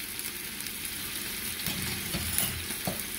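Sliced pork ribs spread out in a pan sizzle and fry steadily, with soft crackles and a few brief stirring or shifting sounds, close up and without talk.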